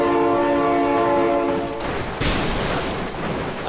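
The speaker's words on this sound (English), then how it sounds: "Oh my god, train!" Sustained train horn sounding loud and near, cutting off as the rushing roar of a passing train takes over, with a sharp burst of clatter near the end.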